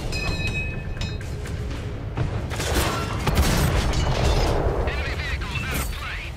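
Tank cannon fire and booming explosions from the video game World of Tanks at long range, heavy and loud within a continuous battle din, with a voice speaking over it.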